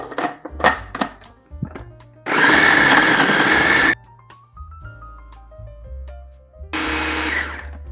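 A blender grinding shrimp and carrots with sesame oil and liquid added runs in two loud, steady bursts, the first about two seconds long and a shorter one later, separated by quieter clatter.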